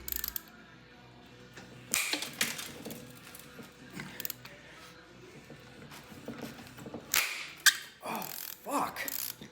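Ratchet clicking on a cam bolt being removed from a 5.7 Hemi engine during teardown, with a flywheel-bolt pry bar adding leverage; irregular bursts of metallic clicks and clanks, moderately close.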